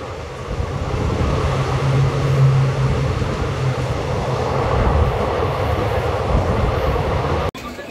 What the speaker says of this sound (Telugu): ప్రస్తుతం మనం బొగడ టనల్ నుంచి అయితే వెళ్తున్నాము.